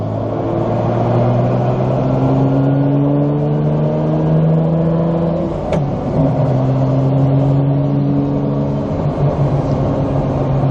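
Heard from inside the cabin while driving, a Toyota Supra's engine drones steadily and loudly, its tone sagging and wavering as the car decelerates, with a brief click midway and no talk.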